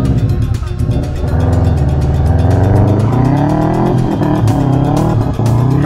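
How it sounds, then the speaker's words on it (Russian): Exhaust of an off-road Subaru climbing a hill, loud and continuous, with the engine droning and straining under heavy throttle up close throughout. "Звук-то какой приятный, звук выхлопа, ух, красота."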